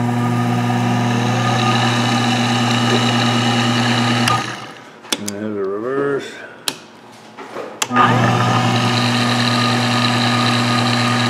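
A Twister variable-speed lathe motor runs with a loud, steady hum, cuts out for about four seconds with scattered knocks in the quieter gap, then comes back up to full running speed.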